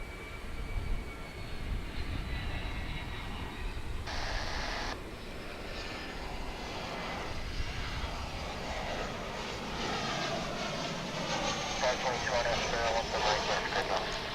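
An American Airlines Airbus A319 jet takes off at DFW International Airport, a broad, steady engine roar that holds throughout, heard from a distance with outdoor ambience and a voice talking over it.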